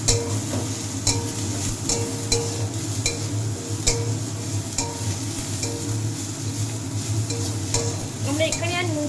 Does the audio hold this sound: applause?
no